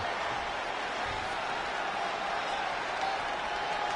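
A home crowd roars and applauds in a wrestling video game on PS4, a dense, steady wash of cheering and clapping at moderate level with no commentary heard.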